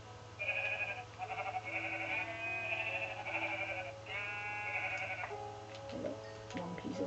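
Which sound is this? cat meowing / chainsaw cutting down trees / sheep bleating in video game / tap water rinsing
sheep bleating in video game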